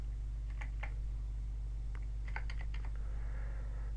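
Quiet keyboard typing, short bursts of key clicks over a steady low electrical hum.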